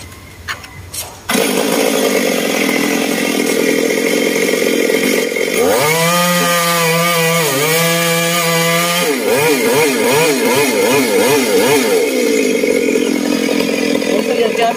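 A Stihl chainsaw roars loudly and continuously, its engine pitch rising and dipping as it bites into a tree beside power lines, with a steady revving drone throughout.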